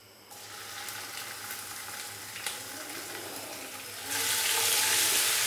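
Ginger garlic paste dropped into hot oil with roasted whole cumin in a pan, giving a steady close sizzle that swells into louder, bright crackling frying near the end, with no talk.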